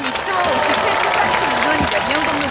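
An outdoor rally audience in front of the National Assembly claps in sustained applause, with a voice speaking over the dense clapping throughout.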